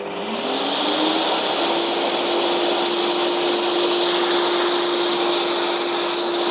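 A scroll saw with a spiral blade cutting wood runs up to speed, then holds a loud, steady motor whine and buzzing drone, close and uninterrupted, with no one talking.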